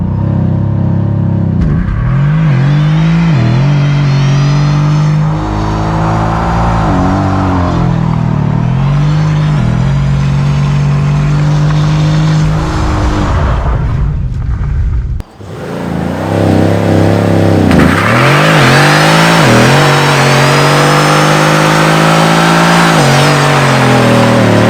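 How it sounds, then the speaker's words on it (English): A Mercedes AMG with over 500 horsepower does a burnout on new tires, its engine revving loudly and repeatedly up and down close by, with a brief dip before a second hard, raspy spell of revving. "And that was a one-handed burnout and a 500 plus horsepower"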